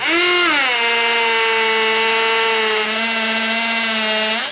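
A hammer drill with a masonry bit bores down through wood into cinder block, a loud, steady high-pitched motor whine that ramps up, holds continuously and slows briefly near the end, with no talk.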